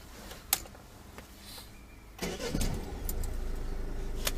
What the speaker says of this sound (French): je vais te laisser redémarrer le moteur